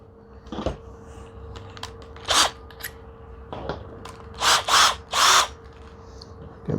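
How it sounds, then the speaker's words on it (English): A power drill whirs in several short bursts in a garage, the last ones louder and closer, separated by small clicks and handling noises over a steady hum. "Get my drill."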